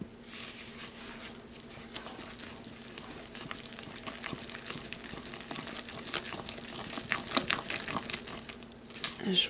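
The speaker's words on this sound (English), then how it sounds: "Now I'm going to mix that in." A spoon stirs flour, salt and baking soda into chocolate chip banana bread batter, giving a steady soft wet scraping and sloshing close by with no talking.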